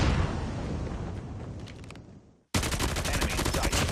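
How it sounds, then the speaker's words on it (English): SMG fire in a ranked video game shooter match: a rapid, loud automatic burst that fades out and briefly stops, then another dense rattling stream of close shots. "Oh my god, this SMG is insane."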